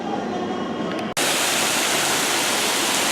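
A broad, steady rush of water spray from nozzles at a children's water play area at a resort lodge, quieter at first and then suddenly much louder after a brief cut, continuing as a constant hiss.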